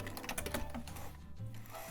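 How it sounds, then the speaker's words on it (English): A sewing machine backstitches at the end of a knit hem, a short mechanical whirr of needle strokes that is close and moderately quiet, then pauses. "When you reach where you started, you can, of course, just do a little back stitch there."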